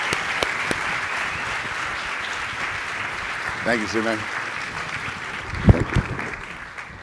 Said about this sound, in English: give an amazing, warm HACR applause for our featured speaker today